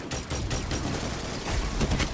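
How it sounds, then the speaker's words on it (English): Sniper rifle fire in a video game, a quick run of sharp shots over steady game noise, loud and close. "or I can miss all my shots"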